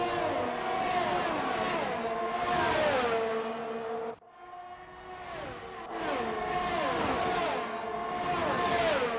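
Formula 1 cars in a racing game at the Australian Grand Prix, engines screaming at high pitch as they overtake into a corner, revs sweeping down and up in repeated passes with a brief dip in the middle, no talking.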